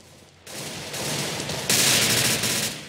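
Rapid sustained gunfire from a shooting video game, loud dense bursts that roll continuously and swell louder about halfway through, with no voices over them.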